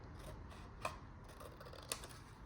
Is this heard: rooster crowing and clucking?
no